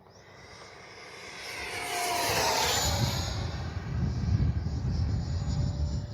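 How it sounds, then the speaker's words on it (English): An FMS Integral 80mm electric ducted-fan RC jet flies past overhead with a steady whooshing whine that rises as it nears and sweeps through, alone and loud outdoors. "Great flying plane."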